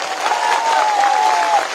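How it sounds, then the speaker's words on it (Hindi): Applause from a political rally crowd, steady dense clapping with a faint whistle-like tone over it, sustained for about two seconds. "ताली दीजिए इनको।"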